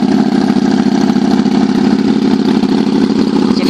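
A Kawasaki Vulcan 800 motorcycle engine idles loud and close, a steady throbbing mid-pitched rumble with a fast, even pulse throughout.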